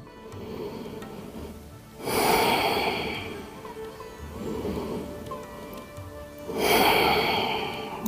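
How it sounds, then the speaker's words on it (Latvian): Deep, calm breathing during a hatha yoga practice in child's pose, two long, loud, close breaths about four seconds apart, each a broad airy rush over a quiet room, with no talking. "Elpojam dziļi un mierīgi."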